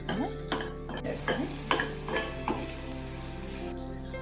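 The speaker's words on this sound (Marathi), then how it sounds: "आणि आता तेल सुटेपर्यंत मात्र हे परतायचं हो" Masala sautéing in oil over a low flame for dal tadka, with a spatula scraping and stirring the pan in repeated strokes about every half second over a steady soft sizzle.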